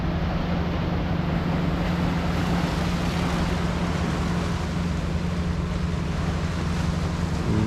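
A fishing boat heads out to sea off Bengre, with a steady broad wash of waves and wind rushing continuously over a low engine hum.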